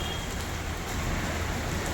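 Rain falling in Worli, Mumbai, a steady broadband wash of noise that stays even and close throughout, with no voices heard.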